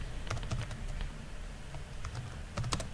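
A SQL select statement is typed on a computer keyboard as steady, close key clicks with a few heavier taps on larger keys, running continuously and alone.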